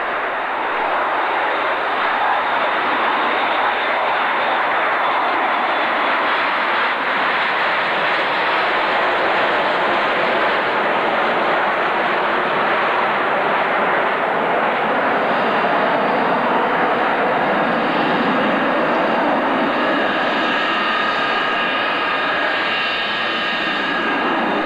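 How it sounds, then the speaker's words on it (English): A B-52 bomber making an airshow-style flypast, a loud, sustained jet roar that fills the whole stretch and slowly shifts in tone as the aircraft passes. "as we've got a few B-52s in the UK at the moment, is a B-52 classic airshow style"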